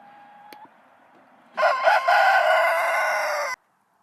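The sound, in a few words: chickens clucking and rooster crowing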